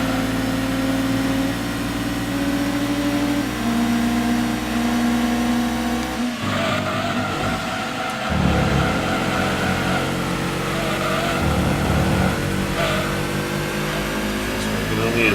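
A race car engine in Gran Turismo 2 drones steadily and loudly through upshifts and revs, with a sharp gear change partway through before it climbs again. Someone talks over it in places.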